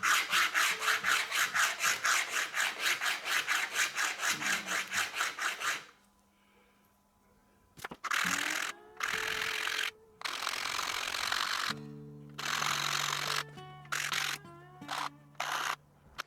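A small hand plane shapes facets on pink ivory wood, first with a fast, even run of rasping strokes, then after a pause with longer, louder separate passes close by.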